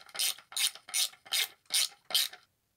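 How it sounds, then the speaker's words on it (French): A screwdriver in ratchet mode turning a screw, six evenly spaced raspy clicking strokes close up, each a short burst of pawl ticks, then silence. "après le mode cliquet du tournevis peut marcher"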